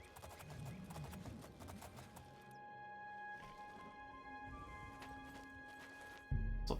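A black horse in the video game Oblivion clip-clops on rhythmic, fairly quiet hooves over soft game ambience, ending in a sudden loud thump.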